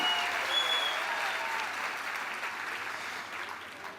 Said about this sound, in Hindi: हमारे AWPL के फाइटर जो पहली बार आए उनके लिए एक बार जोरदार ताली बजा के उनको स्वागत करो